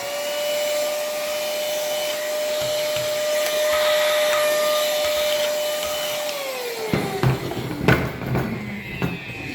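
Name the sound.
vacuum cleaner hoovering up dust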